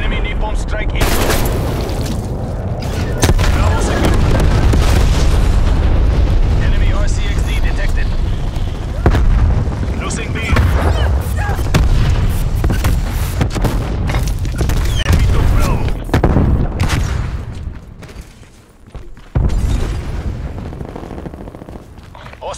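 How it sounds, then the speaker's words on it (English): Artillery strike explosions in the video game Call of Duty Black Ops Cold War, a dense, continuous barrage of loud booms and rumbling blasts with gunfire mixed in, with game voice callouts heard amid the chaos. "Incoming artillery."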